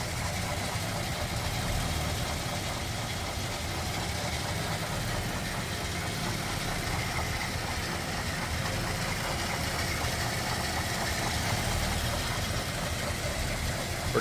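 A 1941 Ford flathead engine in a Super Deluxe Convertible idles smoothly and steadily at close range, a continuous low rumble throughout with no talk over it.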